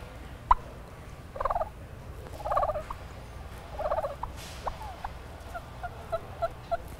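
A turkey hen gives a series of soft, short clucking and yelping calls in several spaced bursts, with a few faint higher chirps near the end, heard at moderate distance over a low outdoor rumble.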